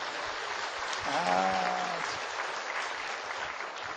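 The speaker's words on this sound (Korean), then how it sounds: "하나님께 영광의 박수." A church congregation applauds steadily for several seconds, with a brief voice rising over the clapping early on.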